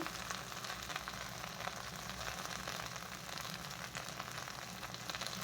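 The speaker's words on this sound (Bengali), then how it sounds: "অল্প লবণ আর অল্প হলদি দিয়ে আমি এখন ভেন্ডিটা ভেজে নেব" Okra frying in oil with salt and turmeric gives a steady, even sizzle with a dense, crackling hiss that stays constant and fairly quiet, with no voices over it.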